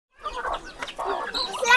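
Chickens cluck in a tribal hill village in India, short irregular clucks at moderate volume with a scratchy bustle, heard for a brief moment without talk.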